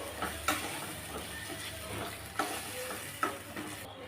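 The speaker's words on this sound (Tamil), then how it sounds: "வதக்கி அரைச்ச மசாலாவை சேர்த்துடலாம் இப்போ இதை ஒரு ரெண்டு நிமிஷம் நல்லா வதக்கி விடணும்" Masala paste for fish curry sautéing in oil, a steady close sizzle broken by a few sharp scraping clicks of a spatua stirring through the pan, with no talking.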